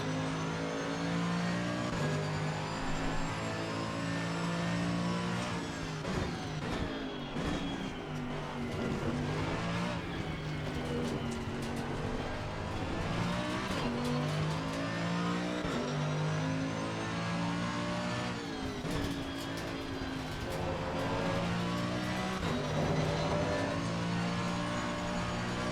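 Mercedes-AMG Evo GT race car in Assetto Corsa Competizione, its engine droning and revving steadily through gear changes for the whole stretch, loud and close with continuous harmonic whine and occasional throttle lifts.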